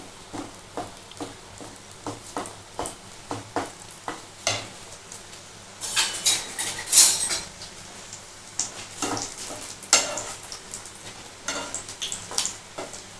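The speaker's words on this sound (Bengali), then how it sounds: "এটাকে একটু ভালো করে আমি একটু নাড়াচাড়া করে নিই কাজুটাকে" Cashews fry in a pan for makhana kheer, stirred with a rhythmic series of scraping, clicking strokes over a soft sizzle, with a few louder metallic scrapes near the middle.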